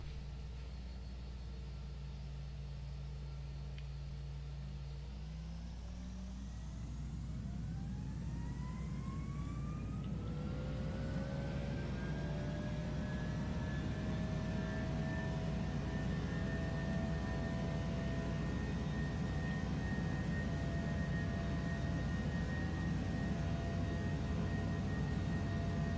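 An Airbus A319's jet engines spooling up for takeoff in the Prepar3D simulator, a low drone that rises into a steadily climbing whine and settles into a loud, sustained roar.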